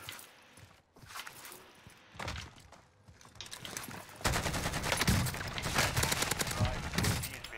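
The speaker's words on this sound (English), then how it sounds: "Now there's a different kid shooting at me" Opponent gunfire in a shooter video game, scattered shots at first, then rapid sustained bursts of automatic fire, loud and close.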